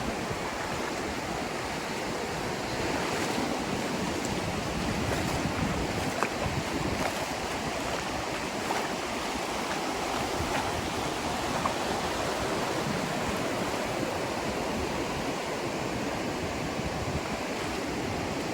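Ocean waves wash onto the sand at Las Lajas Beach in Panama, making a steady broad surf rush mixed with wind buffeting the microphone, with no voices.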